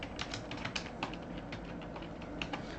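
Quick, light keystrokes on a computer keyboard while entering text into Excel cells, tapping in an uneven rhythm at close range with no voices.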